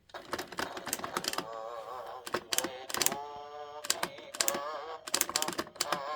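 A 1998 Gemmy drumming nutcracker toy clacking as its arms hit down, a series of sharp, close clicks and clacks in irregular bursts with a faint tonal whine between them.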